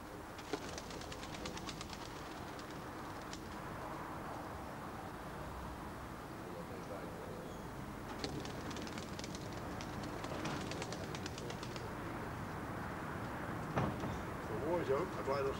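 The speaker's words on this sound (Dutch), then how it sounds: "Hier bedrijven wij onze hobby, dat wil zeggen het verzorgen van de duiven." Racing pigeons cooing in a pigeon club loft in Pernis, Rotterdam, a soft continuous murmur of coos and rustling at moderate distance, with faint background rumble and occasional brief louder bursts.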